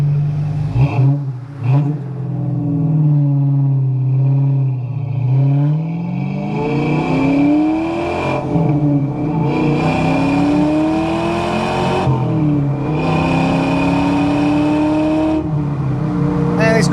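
A 1994 Ford Mustang SVT Cobra accelerates hard on a road test drive, its engine climbing through several gears with rising revs and shifts, loud from inside the cabin, with a voice speaking over it.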